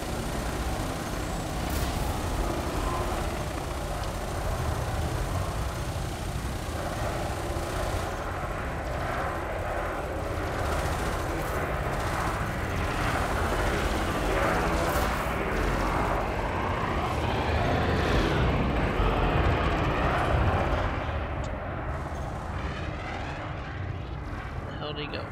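Ship weapons fire in Elite Dangerous during a bounty-hunting fight, rendered as continuous dense rumbling booms and bursts over a steady engine drone, loud and sustained throughout, with a voice talking over it.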